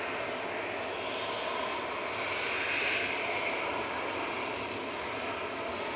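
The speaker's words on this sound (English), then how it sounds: "So that's the SAS E195 that's coming from Oslo there." An SAS Embraer E195 airliner arriving from Oslo at Manchester Airport gives a continuous broad engine roar that swells slightly midway, heard steadily at a moderate distance with no talking.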